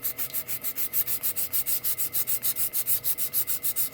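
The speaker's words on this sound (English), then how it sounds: "let's go over some sandpaper" Sandpaper rubbed back and forth over painted carved wood in a fast, even rhythm of about six strokes per second, close and steady with no talk.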